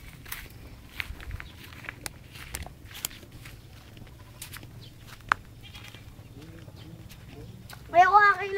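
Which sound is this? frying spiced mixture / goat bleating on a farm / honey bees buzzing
goat bleating on a farm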